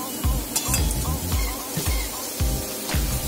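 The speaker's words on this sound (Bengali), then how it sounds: "একটু লাল করে ভেজে নিতে হবে।" Coconut fritters frying in hot oil in a Bengali kitchen, a loud close bubbling sizzle with repeated sharp spatula scrapes and clinks against the pan in an irregular rhythm.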